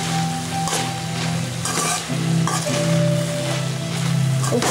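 Pumpkin curry with grated coconut stirred in a pan: a continuous sizzle with soft scraping strokes and a low background hum, close and fairly loud, no one talking.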